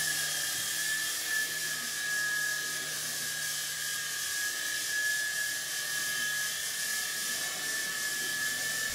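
A small HX708 infrared remote control helicopter flies indoors, its tiny rotor and motor giving a steady, high-pitched whine with a constant tone throughout, fairly close and uninterrupted, with no talking.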